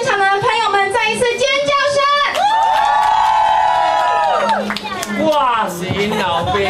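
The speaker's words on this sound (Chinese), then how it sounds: "现场的朋友们再一次尖叫声" Friends and family scream, whoop and cheer together at a marriage proposal beside a river, with high excited voices in loud, continuous overlapping bursts and some shouted talk mixed in.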